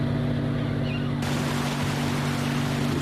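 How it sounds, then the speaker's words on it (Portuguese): Fishing boat motor running steadily on open water at sea, a continuous droning hum with a low engine tone under broad wash and wind noise, no voices. "O som do motor é audível por quilômetros debaixo da água."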